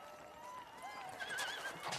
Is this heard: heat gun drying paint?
no